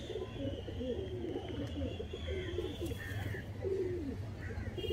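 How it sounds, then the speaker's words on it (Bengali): Photka pigeons in a loft give repeated soft, throaty coos in low rolling phrases, close and fairly faint over a steady background hum. "এটা হচ্ছে ফটকা পায়রা"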